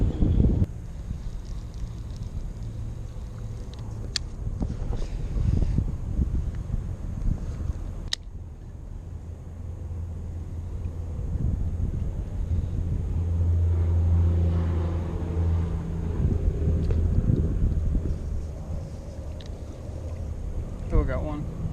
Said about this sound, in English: Ooh, it's getting windy though.